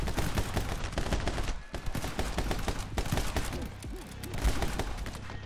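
Rapid, dense shotgun gunfire from a video game, loud and continuous with overlapping blasts and gameplay noise throughout, no talking.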